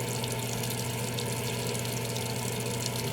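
Water runs steadily from a tap into a sink during face washing, a constant, loud, close rushing stream with no breaks and no voices.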